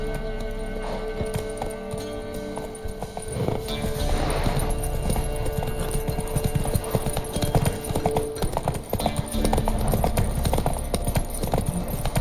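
Horse hooves clip-clop in a steady walking rhythm in The Witcher 3: Wild Hunt, close and clear over a low ambient game soundscape, growing slightly busier midway.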